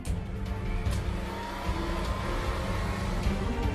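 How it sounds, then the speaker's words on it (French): A plasma rocket engine test firing with argon gas, a continuous loud, rumbling roar heavy in the low end that holds steady without pause from start to finish. "Lorsque les ingénieurs activent le moteur"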